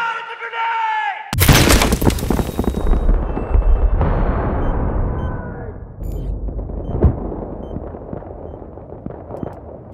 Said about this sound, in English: Get the fuck down! It's a grenade!